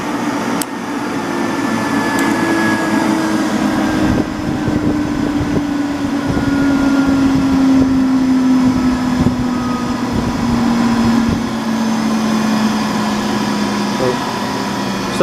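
An Allis-Chalmers rotary phase converter motor running steadily, a loud continuous electric hum with a whining tone that drifts slightly in pitch, some faint talking underneath.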